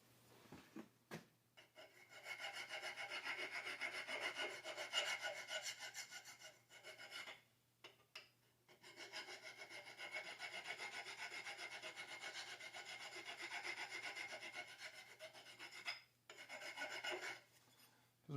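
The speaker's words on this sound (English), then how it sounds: "Let me grab a file and hit that corner and see if that makes it any better." A hand file rasps across a burred steel corner of a turned steering shaft extension in a machine shop, in steady back-and-forth strokes with a few brief pauses, close and fairly loud, with no talking.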